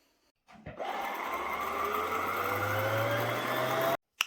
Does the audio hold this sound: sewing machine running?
yes